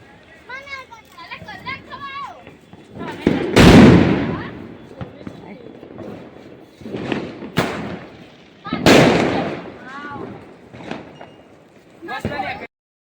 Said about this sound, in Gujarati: જે ફટાકડા ફૂટી ચારે બાજુ જો ધુમાડો